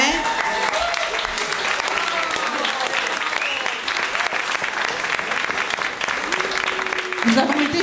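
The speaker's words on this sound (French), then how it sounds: "Nous avons été chaudement applaudis." An audience at a Hydro-Québec information session applauds warmly, a dense, sustained clapping from a crowded room with voices mixed in near the end.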